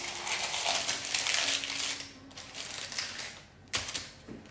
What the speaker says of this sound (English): wrap my ramekin up a bit with some parchment paper.